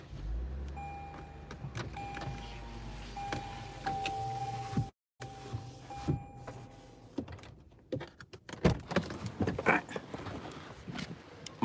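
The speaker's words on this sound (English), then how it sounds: "roll my windows up." A car's power windows rolling up, a steady electric motor whir with a sustained tone lasting a few seconds, then a brief pause and later clicks and shuffling handling noises inside the vehicle.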